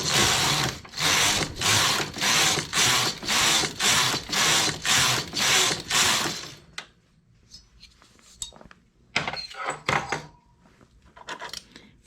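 A knitting machine has its carriage pushed across in rows, about a dozen loud rhythmic mechanical passes each roughly half a second long, followed by softer clicks and clatter of handling.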